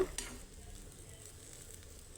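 Bitter gourd fries in a pan with a soft, steady sizzle that stays fairly faint and even throughout, with no voices.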